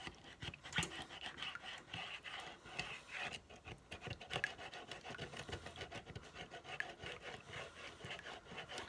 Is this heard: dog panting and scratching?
yes